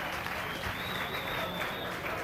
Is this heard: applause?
yes